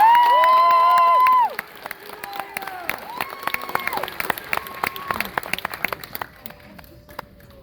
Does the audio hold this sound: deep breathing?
no